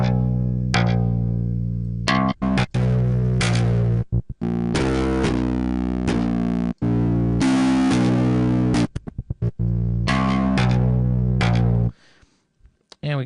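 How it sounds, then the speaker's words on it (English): Overdrive distortion from an effects rack applied to a synthesized tone, loud sustained gritty harmonic notes in stepped phrases with abrupt cuts and short gaps, fading out near the end. "We can go over to overdrive here."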